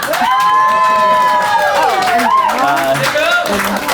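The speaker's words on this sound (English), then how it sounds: "can I hear a round of applause?" A crowd cheers and claps together, a dense wash of applause and voices filling the room with excited shouting mixed in.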